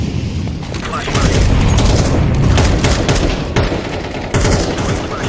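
A flashbang grenade goes off in Counter-Strike 2 amid continuous loud, dense gunfire and booming, with bursts of noise running through the whole stretch.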